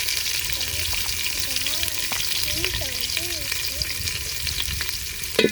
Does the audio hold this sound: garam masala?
yes